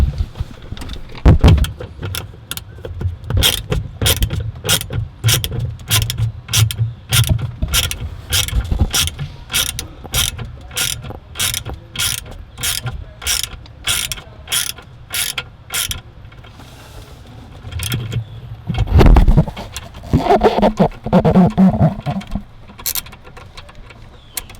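A 10mm socket on a hand ratchet backs out dash screws inside a van, giving a long run of fast, evenly spaced, loud clicks up close, then a pause and a shorter burst of clicking.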